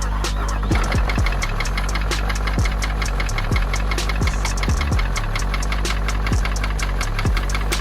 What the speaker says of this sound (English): a ticking noise like that should tell me to give up on this car straight away